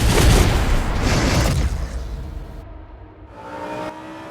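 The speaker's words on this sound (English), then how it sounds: "leaders Warren Gilbert and Jensen Lunn took us for a test lap yesterday afternoon." A GT Cup race car lapping Oulton Park circuit, its engine roaring loudly at first, then fading and dropping away before a brief tonal rise near the end, no voices.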